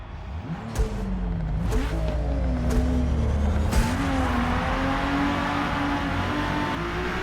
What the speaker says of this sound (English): And now we've got the level 650 Mark III Toyota Supra.